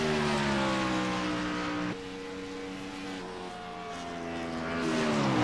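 Race car engines scream near redline down a straightaway, a sustained, loud, harmonic wail that drops in pitch at a shift, then climbs again as revs build.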